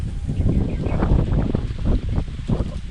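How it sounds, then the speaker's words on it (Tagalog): Strong wind roars and buffets continuously, gusting unevenly with a rushing, blustery texture close up. "Lakas ng hangin."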